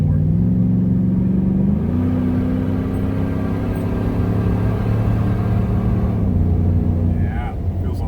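A supercharged 2022 Ford F150 with a 5.0L V8 and a Whipple tune drives along with a strong low engine rumble, stepping up in pitch as it shifts and holding a steady drone, heard from inside the cab.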